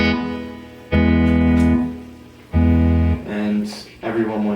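Sustained electric guitar chords chopped hard on and off by an optical tremolo pedal in full range mode, square wave at full depth, each burst cutting fully to silence between pulses.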